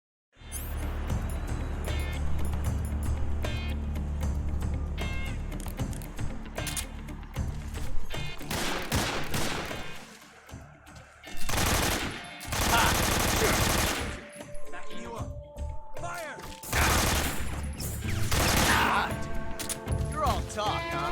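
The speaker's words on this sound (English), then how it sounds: "let's pull out the old AK-47" AK-47 fire in the video game Metal Gear Solid 3, loud automatic bursts and scattered single shots stretching across about twenty seconds, with brief pauses, crashes and game voices in between.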